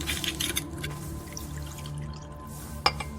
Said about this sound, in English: He pours himself a drink and stares at the amber swirl in his glass for a moment